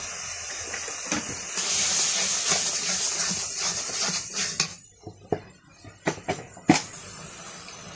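Onions and green chilies hit very hot oil in a village kitchen pan, a loud bright sizzle that settles into a steady hiss, with metal utensil clatters and scrapes near the end.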